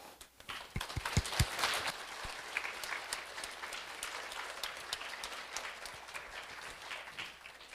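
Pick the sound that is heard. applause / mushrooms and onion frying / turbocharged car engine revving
applause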